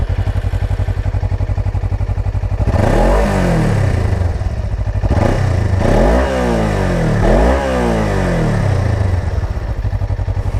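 A 2017 Suzuki GSX 250R motorcycle sits idling in neutral, then its engine is revved hard three times, each rise and fall loud and close, before settling back to a steady idle.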